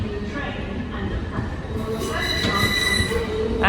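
An LNER train at a Newcastle station platform squeals its wheels, with a rumbling rail roar and metallic screeching that build toward the end and a platform announcement voice faintly underneath.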